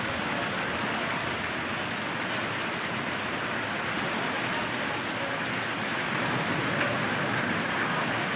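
A torrential downpour over a Kashmiri market lane, steady and close, one unbroken loud wash of falling water that stays constant throughout.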